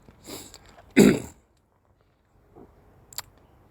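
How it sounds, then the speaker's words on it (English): A few short, raspy throat clearings close to the mic, separated by brief silent pauses. "I know you're not meant to clear your throat in people's ears"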